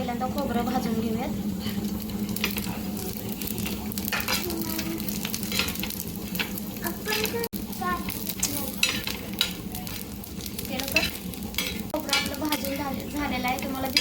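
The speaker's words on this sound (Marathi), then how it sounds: "आता थोडंसं तेल घेतलेलं आहे आणि तेल घेतल्यानंतर त्याच्यामध्ये आपल्याला खोबरं आणि कांदा भाजून घ्यायचा आहे।" Coconut roasts in a little oil in a pan with a steady close sizzle and intermittent stirring scrapes, while a voice talks over it for much of the time.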